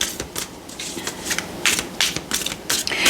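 Tarot cards are shuffled by hand in rapid, crisp riffling bursts that run steadily throughout, close and fairly loud, with no talk over them.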